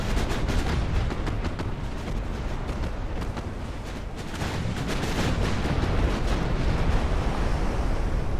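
Heavy naval gunfire from battleship 12-inch guns in Ultimate Admiral Dreadnoughts, a dense, continuous barrage of booming shots and rumbling blasts with no pauses, loud and close throughout.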